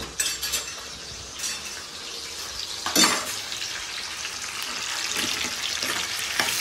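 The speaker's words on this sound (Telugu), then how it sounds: "చేప ముక్కలు రొయ్యలు అయితే కొంచెం వేపుకుంటున్నాను" Fish pieces and prawns fry in oil in a pan, giving a steady close sizzle with a few brief clinks of utensils against the pan, and no talking.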